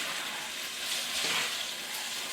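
Noodles cook together in a pan for chicken parmesan, giving a steady close sizzle and frying hiss with faint stirring movement, with no talking.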